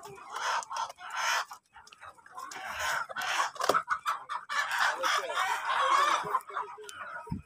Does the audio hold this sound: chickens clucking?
yes